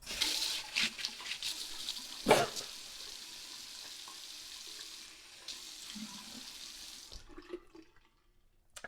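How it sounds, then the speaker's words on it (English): Running tap water during a simple nighttime face wash at a sink, a steady broadband splash and flow with a sharper slosh near the start, continuing for several seconds before cutting off. "Wash the face."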